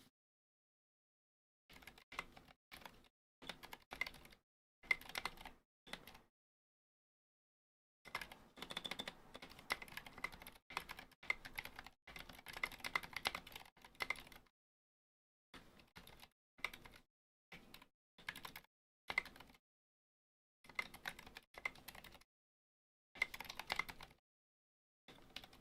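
Custom mechanical keyboard with Mill-Max hot-swap sockets, 62-gram Zilent switches and SA keycaps, typed on in bursts of rapid, muted keystrokes separated by brief pauses, close and fairly quiet.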